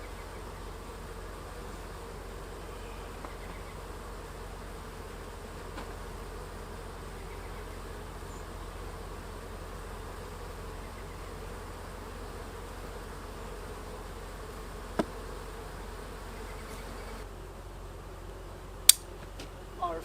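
Honeybees buzz softly and steadily around an open hive during a honey and bee bread harvest, a low continuous drone with a few faint clicks and knocks from handling frames near the end.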